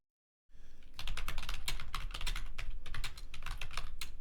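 Rapid keystrokes on a computer keyboard while naming a new Google document, a close, busy run of clicks that starts after a moment of silence and keeps going steadily.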